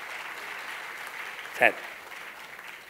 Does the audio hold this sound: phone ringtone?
no